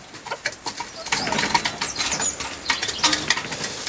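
Pigeons coo softly and flap their wings close by, with a scatter of fluttering wingbeats and rustling at a farmyard feeding spot alongside hens.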